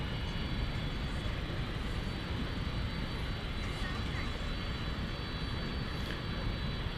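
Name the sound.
airliner jet engines during pushback at DFW Airport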